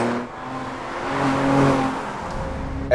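A 2013 Audi S4 pulls away, its engine note building into a smooth, rising roar that swells over a few seconds, near and clear, then eases back with a faint tire chirp.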